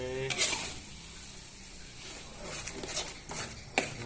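Rohu fish roe cooking in a pan while being stirred, a soft sizzle with a few scraping, clinking strokes of the spatula scattered across the clip.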